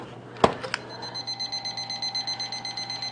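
An oven timer alarm goes off once a pizza finishes baking, giving a steady run of rapid, evenly spaced electronic beeps after a brief knock near the start.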